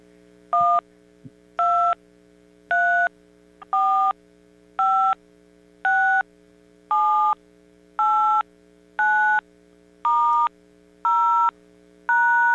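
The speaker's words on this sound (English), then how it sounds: "this is the 72 type dial pad, which is not the one that has buttons that push in all the way. It just a little click." Twelve evenly spaced two-tone beeps from a 72-type telephone dial pad with shallow-click keys, each tone crisp and steady over a faint constant hum, with no voices.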